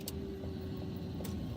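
A truck drives past on a one-way road, a steady low engine rumble close by with a couple of faint clicks or knocks on top and no talking.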